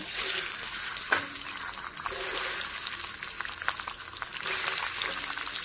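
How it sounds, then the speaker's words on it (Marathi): An egg fries in hot oil, giving a dense, bright, continuous sizzle with scattered crackles and a couple of faint knocks, close up and with no talking. "आता आपण तेलामध्ये एक अंडा सोडून घेऊ।"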